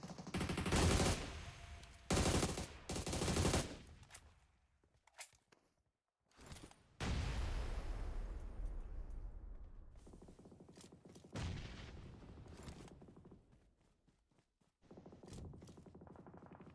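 Loud bursts of gunfire and grenade blasts sound in a battle royale esports match, with rapid automatic fire, heavy booms and scattered shots that come and go, mixed with quieter stretches.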